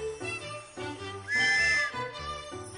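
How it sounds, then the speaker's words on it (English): A police officer's whistle in a children's Wiggles show sounds as one sustained high whistle tone rising over bouncy music, lasting about half a second. "let's all listen for her whistle"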